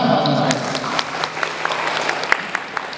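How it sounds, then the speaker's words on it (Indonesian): A school audience at a journalism training session gives a round of applause, a dense clatter of clapping with a few sharp, louder claps standing out near the listener and a faint voice under it. "Tepuk tangan dong."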